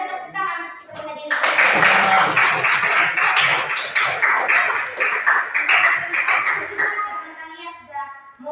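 A classroom of students claps together after a guidance lesson, a dense, steady burst of hand claps lasting several seconds with brief voices before and after.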